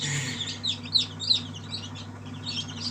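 A crowd of newly hatched chicks fresh from an incubator peep steadily in high, thin chirps, close by, with no talking.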